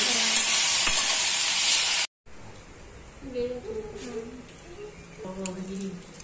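Teasel gourd (kakrol) frying in a pan, with a loud, dense sizzle for about two seconds that cuts off abruptly, followed by quieter kitchen sounds and faint background voices.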